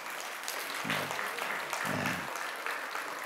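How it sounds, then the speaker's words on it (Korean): A church congregation at a Sunday worship service claps for the children leaving, a steady wash of applause with a voice briefly cutting in over it twice. "우리 박수 한번 쳐주세요."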